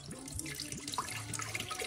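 Tap water pours steadily and close into a vessel while ingredients such as mint, cucumber, ginger and lemon are prepared for a drink, a continuous splashing gush with no talk.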